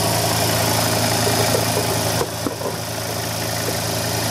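A Kromrey generator running and warming up, giving a steady mechanical hum with a constant low drone that holds throughout, with a brief shift and small knocks partway through.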